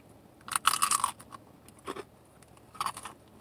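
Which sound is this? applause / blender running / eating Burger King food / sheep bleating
eating Burger King food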